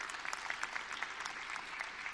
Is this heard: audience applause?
yes